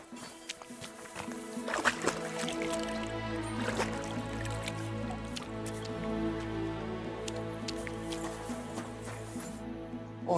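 Water drips and trickles in Kingdom Come Deliverance 2 as Henry washes up, a steady run of small drops and splashes over a low, constant hum of background ambience.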